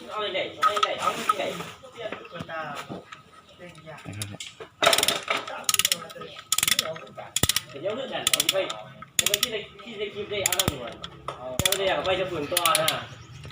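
Ratchet wrench clicking in quick runs as bolts are tightened during a car clutch plate replacement, close and repeated, with someone talking over much of it.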